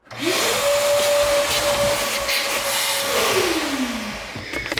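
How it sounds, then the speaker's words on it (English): A shop vacuum cleaning the interior of a Minimax van being refitted, whining up to a steady loud roar for a few seconds before spinning down as it is switched off. "I'm gonna go ahead and vacuum this up too here real quick"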